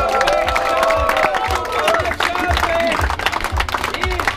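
Spectators at a Latvian trial motorsport awards ceremony in Grobiņa clap and cheer for the first-place winner, a dense, continuous burst of applause with whoops and crowd voices throughout.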